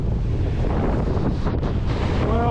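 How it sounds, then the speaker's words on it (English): Strong wind blasts across Maroubra Beach, a suburban fishing spot, producing a loud, constant roaring rumble with microphone buffeting and faint surf beneath. "we're down here at Maroubra Beach and the wind is really upon us"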